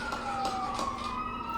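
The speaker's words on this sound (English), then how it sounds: "Greta, you hear those ambulances?" Ambulance sirens wail steadily at a distance through a neighborhood, a faint sustained tone hovering in the background with no talk over it.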